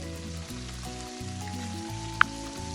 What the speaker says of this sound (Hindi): प्याज को भी तकरीबन हम उतनी देर तक ऑयल के अंदर फ्राई करेंगे